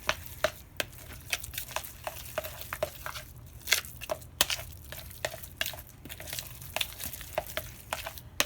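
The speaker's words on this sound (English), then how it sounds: "Then we're just going to stir this all together." Egg salad with mustard and mayonnaise is stirred in a bowl, producing a steady run of soft, wet clicks and squishy scrapes, close and fairly quiet, with no voice over it.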